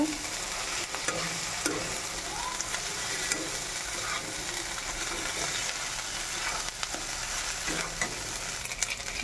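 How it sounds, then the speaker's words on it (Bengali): Masala with chopped tomato sizzles in a pan while being stirred, a continuous frying hiss with repeated scraping strokes of the spoon, close and steady. "মশলাটাকে আমি ভালো করে কষিয়ে নেব।"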